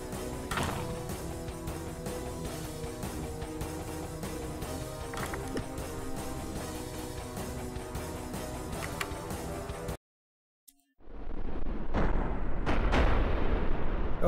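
A bomb blast from the video game Commander Keen: Heroes Lost: dense, continuous rumbling booms under game music, then an abrupt cutoff to near silence and a renewed burst of roaring noise.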